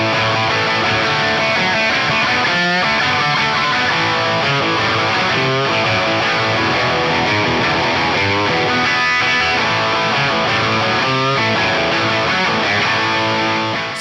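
Electric guitar played through a Plexi 6CA7 amp model on an Axe Fx III at stock settings, a PRS guitar, giving a dense, driven rock tone with strummed chords and riffs sustained loud and continuous throughout, no voices.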